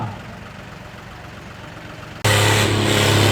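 A John Deere tractor in a tochan tractor-pulling match idles with a low rumble, then abruptly roars into a loud, sustained rev that stays close and dominant.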